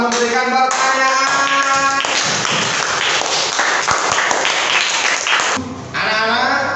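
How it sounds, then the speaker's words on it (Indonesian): Students in a classroom break into brief clapping for a classmate who asked a question. The close, sharp claps sit between stretches of a teacher's voice. "Beri tepuk tangan yang telah memberikan pertanyaan."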